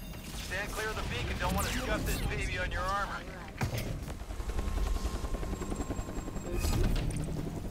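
Helicopter arriving in a Pripyat, Ukraine shooter game, a rotor thrum building under frantic player shouting and bursts of gunfire.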